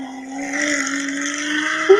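A V12 car engine drones from behind a mountain, a steady, distant tone that swells slightly as it carries across the landscape.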